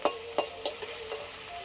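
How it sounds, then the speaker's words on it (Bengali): A sweet spice paste fries in oil in a pan, a close, steady sizzle punctuated by rhythmic stirring scrapes that start sharp and fade. "অল্প করে মিষ্টি মশলাটা ভালো করে কষিয়ে নিয়েছি তেল ছেড়ে দিয়েছে"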